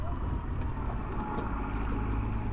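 An old tractor engine at an agricultural sale ground runs rough with a steady, loud low-end rumble and wind buffeting the microphone, no voices.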